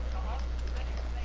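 Horse hooves clip-clop in Red Dead Redemption 2, a short steady patter of hoofbeats over a constant low hum, with a voice talking over them.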